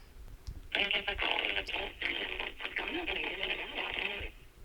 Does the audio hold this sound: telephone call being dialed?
yes